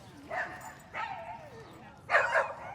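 A dog at a group training class barks and whimpers in three short bursts, yips with whining pitch slides in between, close by and loud, with people talking around it.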